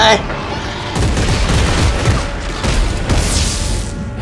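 Heavy weapon fire in the co-op shooter Dead Space 3, a dense, loud roar of repeated blasts and booms running almost continuously across the few seconds.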